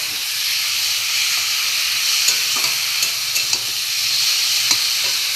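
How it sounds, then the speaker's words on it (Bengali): Fish curry spice paste frying and being stirred in a pan, a continuous loud sizzle and hiss with scattered scraping stir strokes, no voices. "মশলাটা পুড়ে যাচ্ছিল। একটু ভালো করে কষিয়ে নিই।"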